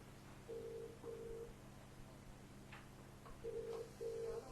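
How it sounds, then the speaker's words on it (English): Telephone ringback on an outgoing call, heard as two pairs of short, faint, even ring tones with a gap between them, set against a quiet radio-studio background. "So for now, the phone's ringing."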